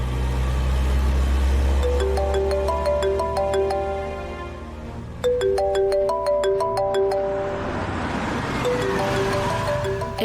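Phone ringtone playing a bright repeating melodic chime pattern, fairly loud over a low rumble of a car engine nearby, pausing briefly then starting again.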